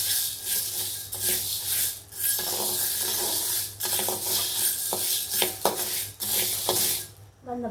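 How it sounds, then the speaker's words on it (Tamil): Green gram dry roasting in a pan while being stirred, a steady scraping, rattling rasp of dry lentils against metal, continuous and fairly loud, with short pauses between strokes. "இது வந்து நல்லா பொன்னிறமாக வறுத்துக்கணும்."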